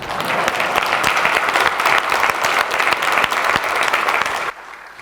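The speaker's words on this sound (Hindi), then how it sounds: "अब तो ताली बजा दो यार।" An audience claps in sustained, dense applause for about four and a half seconds, loud and close, then it cuts off abruptly into near silence.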